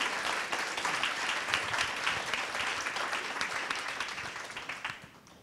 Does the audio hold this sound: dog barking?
no